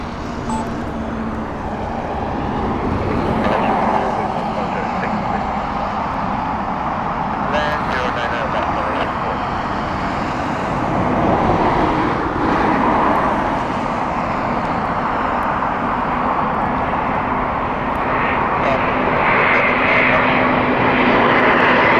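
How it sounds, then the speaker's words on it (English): Malaysia Airlines Airbus A350-900 airliner arriving at Heathrow, a loud, sustained jet engine roar that swells and rolls on throughout, with a person talking over it. "This is Malaysian Airlines Airbus A350-900. Here it comes."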